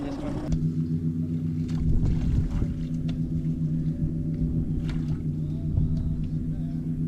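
An outboard boat engine runs on a muddy lake in the Kissimmee Chain of Lakes, Florida, giving a steady, close, low droning hum with a constant pitch throughout.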